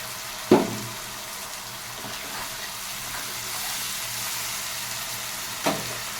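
Onion paste and tomato paste frying in a pan with nigella seeds, potatoes set aside, a steady low sizzle with two sharp clatters at the start and near the end.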